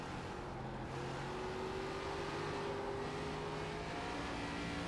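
An ARCA race car engine in iRacing drones steadily around North Wilkesboro, a constant mid-level tone that climbs slowly in pitch, with no voices.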